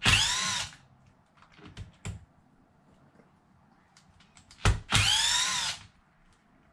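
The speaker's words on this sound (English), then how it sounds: "I'll start by taking out these screws here." A power drill backs screws out of a Traxxas Sledge RC truck during teardown, two whining bursts of the motor, each about half a second long, with small clicks and handling noises between them.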